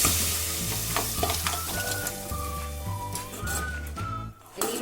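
Boiled goat trotters sizzle and fry in a pan with turmeric, salt and chili powder, a steady loud crackling hiss while being stirred, with thin whistling tones drifting in over it.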